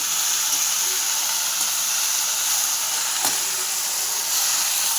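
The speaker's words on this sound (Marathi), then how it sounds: "मेथीची भाजी धुवून टाकायची त्याच्यामध्ये आणि छान हलवून घ्यायची" Washed fenugreek leaves dropped into hot oil in a pan give a loud, steady hiss and sizzle that runs unbroken throughout, with a few faint knocks from stirring.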